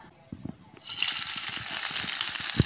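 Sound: chopped onion frying in hot ghee

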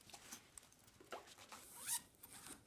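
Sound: unzipping a laptop bag case

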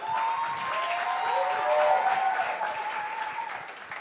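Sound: applause

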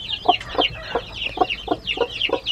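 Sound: hen clucking

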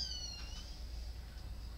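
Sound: cat meowing

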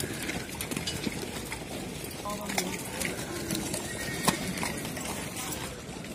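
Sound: horses at a livestock market

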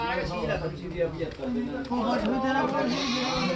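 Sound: goats bleating at a goat market

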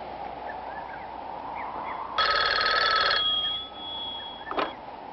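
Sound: telephone ringing

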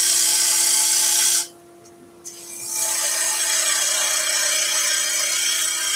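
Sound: bowl gouge cutting wood on a lathe

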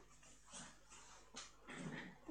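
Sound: dog whimpering

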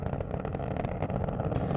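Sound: Space Shuttle Atlantis main engines during launch

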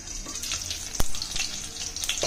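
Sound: oil spattering while frying under a lid

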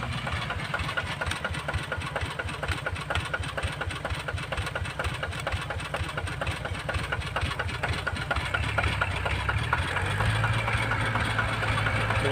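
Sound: ZT155 tractor engine running

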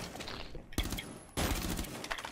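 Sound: gunshots in the video game Rainbow Six Siege

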